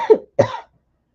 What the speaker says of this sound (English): Sorry, lots of sneezing and coughing going on.